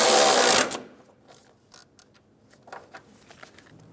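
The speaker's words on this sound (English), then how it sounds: "Snug the bolt down." A bolt is snugged down on the engine torque strut mount of a 2007-2011 Toyota Camry: a short loud rushing burst, then a series of soft, close mechanical ticks and clicks.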